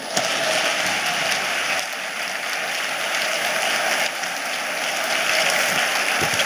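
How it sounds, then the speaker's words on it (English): Sustained audience applause at a year-end community gathering, dense steady clapping from a large crowd that holds at an even level for several seconds with no voices over it. "Keep clapping, keep clapping, keep clapping."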